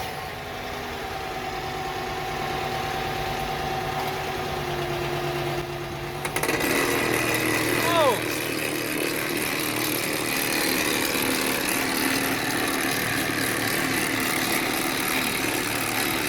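A car engine idles steadily, then loudens into a fuller, rougher running sound as it is put in gear with a drive shaft fault, a steady mechanical drone that continues to the end.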